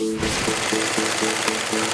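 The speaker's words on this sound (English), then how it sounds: "Did you like the sound of the sewing machine when they stitched the PVC together?" Sewing machine stitching PVC sheeting for a bouncy castle, a rapid mechanical whirr with regular clacking pulses about four times a second, loud and close, continuous with no talk.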